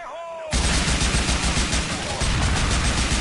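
Sustained, loud, dense gunfire in the video game Grand Theft Auto IV, starting abruptly after a brief whistling tone and continuing as a steady rattling barrage with one short dip.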